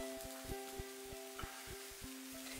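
Cinnamon-topped batter fries in a pan with a faint, soft sizzle, and light scattered crackles and pops ride over a steady hum.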